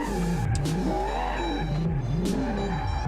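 A car spinning out at high speed in the BeamNG.Drive video game, with a loud engine whine that rises and falls, revving and wavering through the spin under a steady low rumble.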